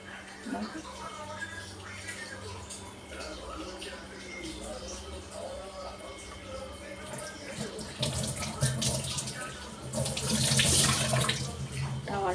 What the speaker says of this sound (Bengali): তো চলো এবার এটাকে আমি একটা টাওয়াল ভিজিয়ে তুলে নিচ্ছি